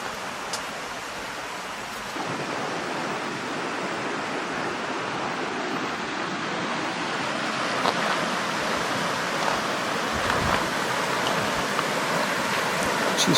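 Water of the Nerang River flowing over rocks on a quiet morning gives a steady, broad rushing wash that holds close and even throughout, with no voices.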